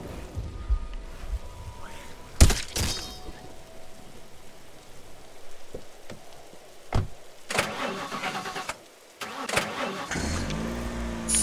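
A car engine cranks and starts in a zombie survival video game, with loud bursts, door or impact thumps and an uneven rumbling idle that rises and falls.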